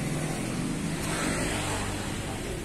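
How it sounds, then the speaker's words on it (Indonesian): A Suzuki Katana GX engine idles after starting, a steady low rumble that holds even and continuous throughout with no talk. "kita nyalain dulu ya mobilnya kayak gimana"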